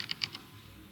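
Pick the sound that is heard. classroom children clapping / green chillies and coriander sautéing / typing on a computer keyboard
typing on a computer keyboard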